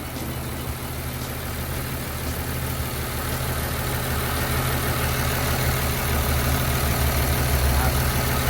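The diesel engine of a Komatsu GD405A-2 motor grader idles steadily with a deep, rumbling drone that grows slightly louder toward the end, close by and continuous.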